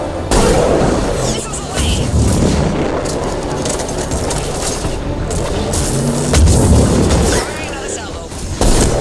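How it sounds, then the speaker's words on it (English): Missile launches and heavy explosions from the video game Mass Effect 3, loud rumbling booms and blasts filling the scene continuously with a couple of stronger hits. "Missiles away."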